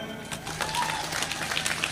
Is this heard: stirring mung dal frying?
no